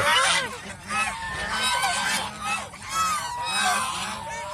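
A flock of domestic geese, including a gander, honks in repeated rising bursts at moderate distance, the calls overlapping with brief dips between groups.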